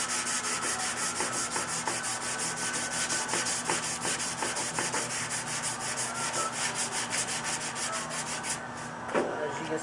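Steady, continuous abrasive rubbing of sandpaper across primer with guide coat, close and loud, with a rhythmic back-and-forth texture that eases off near the end.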